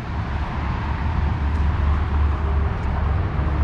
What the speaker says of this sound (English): I'm sure you could probably hear the traffic noise in this video.